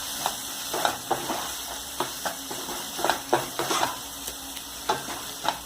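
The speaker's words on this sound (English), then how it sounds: "I am putting in the tomato puree into the pan. Give a good stir to the masala." Tomato puree masala for egg gravy stirred in a pan, with repeated soft scraping strokes in an uneven rhythm over a low sizzle, close and fairly quiet; no talking.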